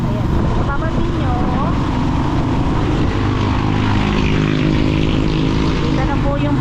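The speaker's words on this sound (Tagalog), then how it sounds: "Daan ko lang yung motor, maingay po kasi." Loud, steady engine drone from a motorcycle being ridden on a trip toward Mount Arayat under cloudy skies, running continuously throughout with wind noise and faint voices beneath it.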